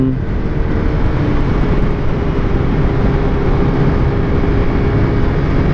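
A Honda PCX scooter accelerates to overtake in traffic, giving a steady, loud, close engine drone mixed with rushing wind noise that holds throughout without a break.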